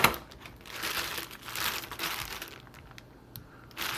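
Plastic wrapping crinkles and crumples in bursts as a Sig P320 X Compact pistol is pulled free of it, close and moderately loud, with brief pauses and sharper crackles toward the end.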